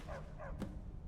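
Dogs in Skyrim give a couple of short, soft yips or barks in quick succession, faint and fairly distant against a quiet background.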